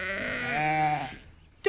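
A sheep gives one long, wavering bleat, close and clear, fading out after about a second with a short sharp click at the end.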